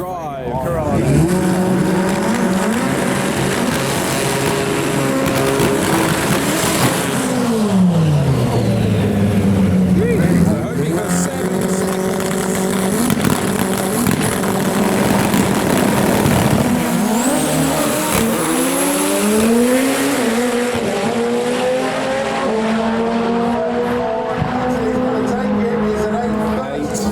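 A four-wheel-drive VW Corrado on a prepped drag strip roars loud and near, revving and climbing through gears with tire noise. The engine note sweeps up and falls across the run, with crowd and talk mixed underneath.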